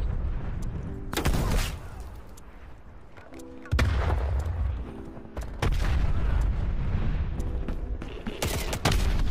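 Hand cannon gunfire in Call of Duty Cold War: loud, booming game shots and explosive blasts in heavy bursts, dense and continuous with a few short pauses, no talking.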